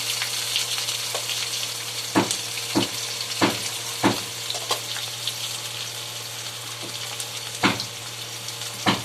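Chopped onion with curry leaves, ginger and green chilli sizzles steadily in a pan, a constant frying hiss broken by a few sharp scraping stirs. A low hum runs underneath.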